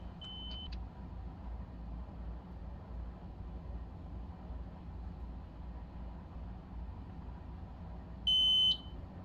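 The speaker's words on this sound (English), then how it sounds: "Beep." Short electronic beeps inside a train simulator game set on a Hampstead route, a brief tone near the start and a louder one near the end, over a steady low rumble of the train.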